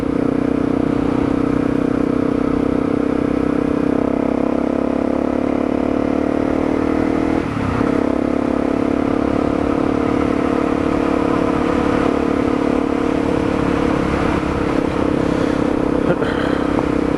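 A Honda CRF250L dual-sport motorcycle on an autumn ride, its single-cylinder engine droning loud and steady at close range throughout, with wind rush and a brief dip in the note partway through. No one speaks.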